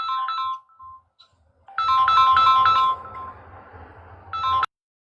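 A mobile phone ringtone plays a bright, repeating melodic pattern, loud and close, with a short burst at the start, a longer stretch of ringing, then a final brief phrase before it cuts off abruptly.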